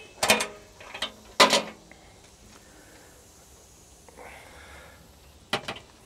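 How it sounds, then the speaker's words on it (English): Hi-rail gear box on a BTE 325 high rail excavator being opened, with a few sharp metallic clanks and latch creaks spaced apart, close and fairly quiet, with no talk. "So let's open up the box and we'll take a look inside"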